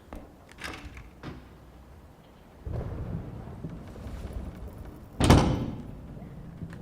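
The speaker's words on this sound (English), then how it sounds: "that was a better door slam" A door slams in the horror game Layers of Fear Remake as one heavy, booming bang, loud and close, standing out above low rumbling ambience and a few faint knocks.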